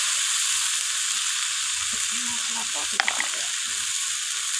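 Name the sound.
frying spices with coriander leaves for surmai fish curry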